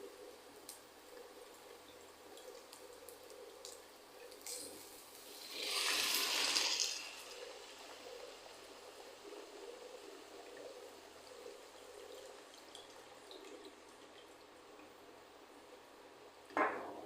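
Just over one and a half cups of water is poured into sautéed rice for jeera rice, a brief splashing gush midway amid an otherwise quiet kitchen.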